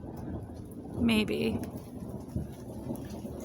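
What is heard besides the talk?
thunderstorm with rain and thunder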